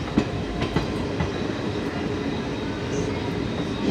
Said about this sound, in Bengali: আজকে ট্রেন রয়েছে দেখো নৈহাটি কিন্তু ছেড়ে দিল